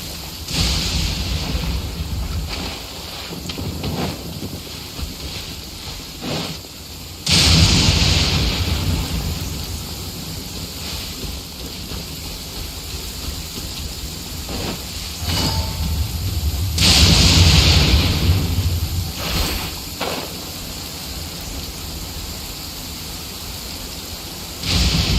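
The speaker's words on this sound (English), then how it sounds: "It's raining again?" Rain falls steadily in Genshin Impact while thunder rolls in several loud rumbling bursts, the shower hissing underneath throughout, with no one talking.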